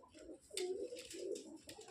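Pigeons coo softly nearby, a few low, rolling calls in succession with brief gaps between them.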